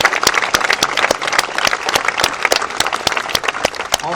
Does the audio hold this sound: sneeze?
no